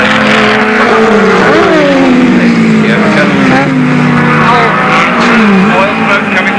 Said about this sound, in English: That Lotus has got a misfire.